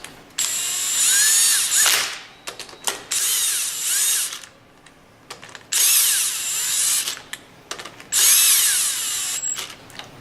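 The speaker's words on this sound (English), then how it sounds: "Reinstall the outlet valve plate using the 8 bolts." Power tool driving the eight bolts that hold an outlet valve plate back onto a pump, heard as four strong whirring bursts of a couple of seconds each with short pauses between, close and loud with no talking.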